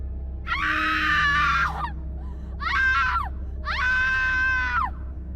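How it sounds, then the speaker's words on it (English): Three high, wavering screams ring out in separate bursts, each lasting about a second, over a low steady hum. "And then I heard a scream."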